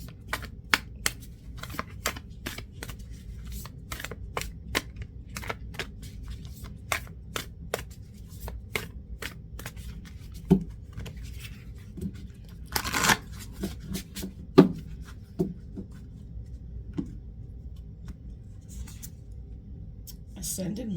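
Energy and spirit oracle cards are shuffled and handled in a series of sharp, close slaps and riffles spaced irregularly, under intermittent talking.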